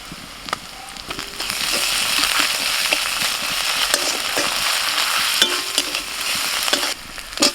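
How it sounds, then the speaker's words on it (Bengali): Onion and ginger-garlic paste frying in a hot wok, a continuous loud sizzle broken by the scrape and clack of a spatula stirring at irregular intervals. "পেঁয়াজটা ভেজে নিয়ে দিয়ে দিচ্ছি আদা রসুন বাটা"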